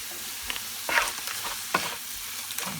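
Herbs such as oregano and fennel sizzling in a pan while being stirred, a steady fry hiss broken by several sharp scraping strokes of the spoon, close and fairly loud, no talking.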